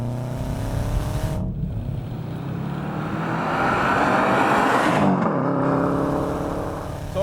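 A Subaru Impreza WRX with a mild aftermarket exhaust pulls hard from inside the cabin, a loud, rising throaty drone broken by short gaps at gear changes, with no one speaking.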